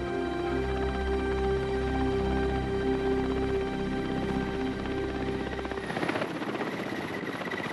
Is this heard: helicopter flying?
yes